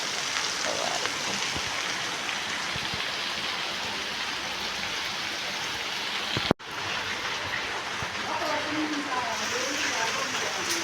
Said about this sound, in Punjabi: ਕਿੱਦਾਂ ਮੀਂਹ ਪੈ ਰਿਹਾ ਹੈ